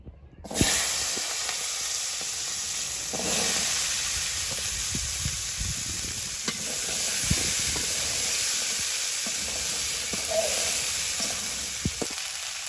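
Tilapia sautéing with salt in a hot pan, cooked outdoors by a pond alongside yardlong beans, gives a steady, close sizzle and hiss that runs unbroken throughout, with occasional small pops and no voices.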